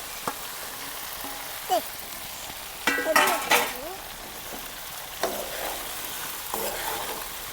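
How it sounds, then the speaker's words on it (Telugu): Okra fries in a pan with a soft, steady sizzle, interrupted several times by the scrape and clink of a utensil stirring against the pan. "బెండకాయలు ఎమ్మటే ఫ్రై అవుతాయి కానీ పచ్చిమిరపకాయలే కావు"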